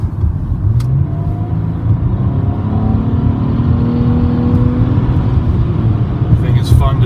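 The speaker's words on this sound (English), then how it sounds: "Driving this Nissan Maxima SV." Steady engine drone and road rumble from a Nissan Maxima SV with its 3.5-liter VQ engine, heard from inside the car while driving, a low continuous hum that swells slightly as it accelerates, with someone talking over it.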